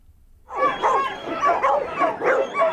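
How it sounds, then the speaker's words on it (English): A crowd of working farm dogs at a farmers' protest in Amberley, North Canterbury, bark together in a dense, loud, continuous chorus of overlapping yaps and howls that starts abruptly. "urged their dogs to bark in unison and to send a clear message to Wellington"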